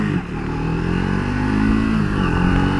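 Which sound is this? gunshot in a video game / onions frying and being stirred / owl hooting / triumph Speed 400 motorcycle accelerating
triumph Speed 400 motorcycle accelerating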